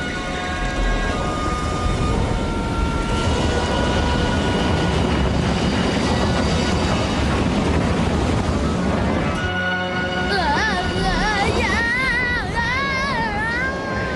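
A cartoon whirlwind sound effect from a Tamil animated episode: a loud, continuous rushing roar like swirling wind and surf, with musical tones running through it and a warbling shift near the end.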